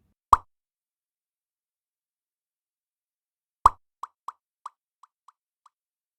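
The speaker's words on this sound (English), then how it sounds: "Calf Vintage Delay. Syncs to BPM, sounds great, I use this all the time." A Calf Vintage Delay plugin synced to tempo: a single dry plucked hit, then a second hit followed by a string of quickly fading echoes repeating at an even rhythm.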